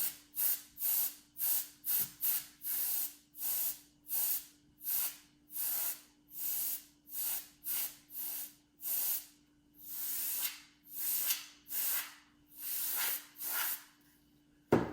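A spray nozzle spraying alcohol ink hisses in a long series of short bursts, steady and rhythmic, close and fairly quiet, with brief silences between sprays.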